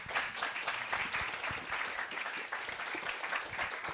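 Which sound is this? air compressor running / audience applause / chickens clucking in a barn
audience applause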